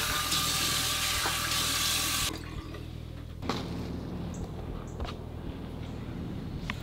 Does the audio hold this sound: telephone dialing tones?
no